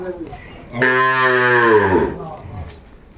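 A single long, loud moo from a Sahiwal cow at a cattle market in Chandpur, Bangladesh, with a rich harmonic tone, lasting over a second, then fading into quiet background noise.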